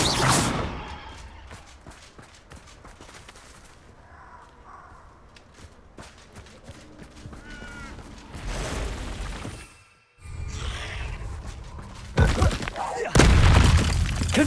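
Confringo fire-spell explosions in Hogwarts Legacy, several deep booms and crashes amid busy combat noise, swooshes and footsteps, growing louder toward the end with a brief near-silent gap in between.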